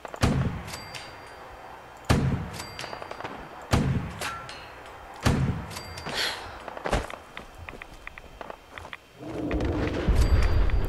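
Modular rifle shots in Fallout 4 ring out in a slow series of sharp, loud cracks a second or two apart, set against a busy game backdrop with rumbling and a heavier burst near the end.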